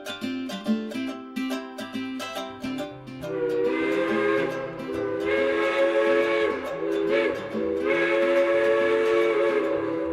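A steam locomotive on the New Hope Valley Railway, hauling open-air rail cars, sounds a loud multi-toned whistle. It starts with short toots, then gives sustained blasts over a steady background rumble, heard close.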